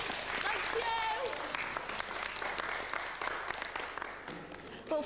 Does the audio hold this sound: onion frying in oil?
no